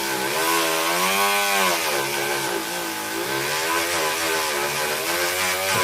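A Dremel rotary tool polishing during a Minarik Inferno setup, with a loud, steady high-pitched motor whine that shifts pitch slightly as it bears on the work, filling the whole stretch with no talk.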